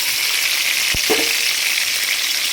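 Onion, tomato, dried chili and garlic sautéing in hot oil in a kadai, giving a steady loud sizzle throughout with a couple of brief stirring knocks near the start.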